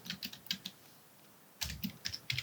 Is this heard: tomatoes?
no